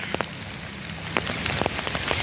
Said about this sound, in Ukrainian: дощик більше пішов